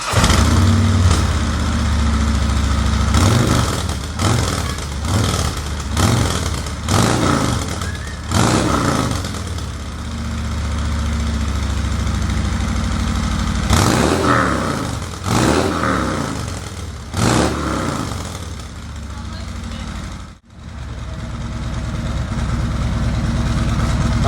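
2019 Harley-Davidson Street Glide Special V-twin engine starting, then idling with a series of sharp revs in repeated bursts, loud and close, before it settles and briefly cuts out near the end.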